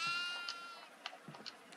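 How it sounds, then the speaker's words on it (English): Goats in the horror game Devour bleat in a quick series of wavering, nasal cries, several close calls stacked over a dim ambient bed with no talk. "There's two goats right in front of me"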